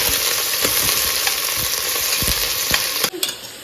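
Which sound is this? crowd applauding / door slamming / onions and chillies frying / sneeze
onions and chillies frying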